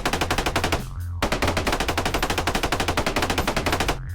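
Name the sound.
minigun firing while mining, Xbox Live indie video game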